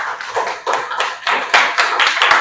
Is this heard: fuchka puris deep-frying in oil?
no